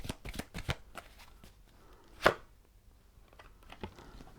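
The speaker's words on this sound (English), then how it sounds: "let me just take one more card for it actually" Tarot cards are shuffled and drawn from a deck, giving soft riffling flicks and small scattered taps, with one sharper slap partway through, all close and fairly quiet without talk.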